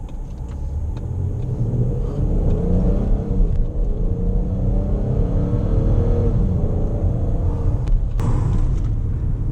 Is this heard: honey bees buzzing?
no